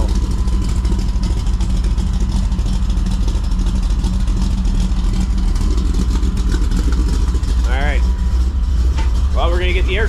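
A Camaro's engine rumbling steadily from inside while driving, a loud low drone throughout, with someone talking briefly toward the end.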